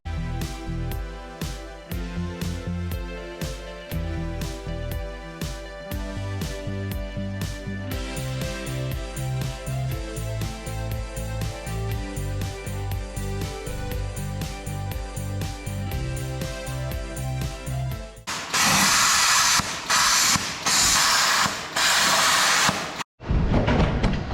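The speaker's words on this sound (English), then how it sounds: "So because of the amount of rust, it's hard to get a good earth. So you can see it's quite, sometimes it's really nice and then sometimes it splutters." A plasma cutter slices through a rusty MK2 Ford Escort body, a loud hissing roar that breaks up and sputters for about five seconds, with a brief cutout, after a long stretch of music.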